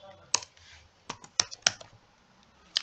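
Typing on a computer keyboard while entering an error message: a few separate clusters of sharp key clicks, close and fairly loud, with brief pauses between them.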